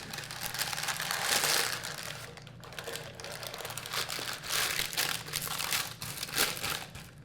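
Small hard pie weights rattle and pour continuously into a parchment-lined uncooked pie crust, a dense crinkly clatter over a papery rustle, close and fairly loud.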